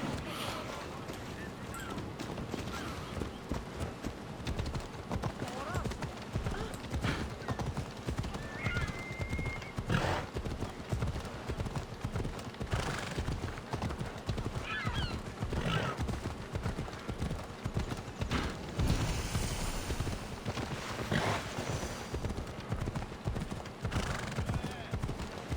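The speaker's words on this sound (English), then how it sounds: "Picking up a horse." Steady rhythmic clip-clop of galloping horse hooves in Assassin's Creed Odyssey runs throughout, loud and continuous, with a horse whinny partway through and faint talk underneath.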